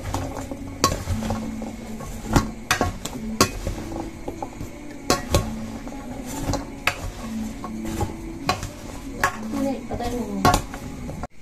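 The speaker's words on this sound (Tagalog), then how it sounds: "Tapos ay haluin na po natin." Utensil scraping and clinking around a bowl of fruit salad with tuna, with repeated sharp knocks against the bowl and a steady rustle of mixing, close and moderately loud.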